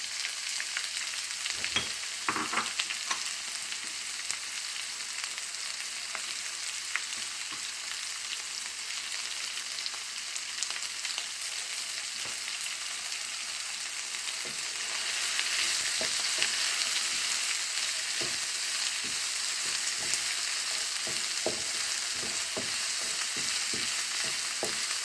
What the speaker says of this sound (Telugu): వేగేటప్పుడు కొంచెం కలిపేసామనుకోండి తొందరగా వేగుతాయి